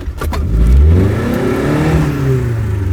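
A cheap off-road car stuck in mud revs its engine hard, a loud, continuous rising and falling roar that strains without easing for the whole moment.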